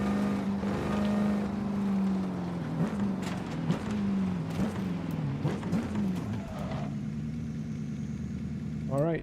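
A car with a 6-speed manual gearbox driving in Forza Horizon 5, its engine droning steadily and shifting in pitch, then easing to a lower idle-like hum near the end.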